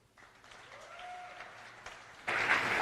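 A crowd at a tenpin bowling semi-final breaks into applause that starts quiet and swells suddenly into louder, dense clapping near the end.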